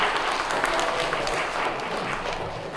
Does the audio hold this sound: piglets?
no